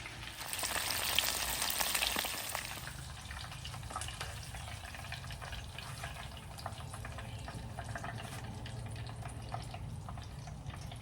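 Mushrooms deep frying in hot grease outdoors on a porch, a steady soft crackling sizzle that is louder for the first few seconds after the drop, then settles to a constant bubbling hiss, no talk.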